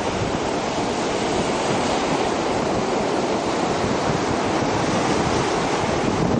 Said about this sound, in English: you can certainly see the waves washing in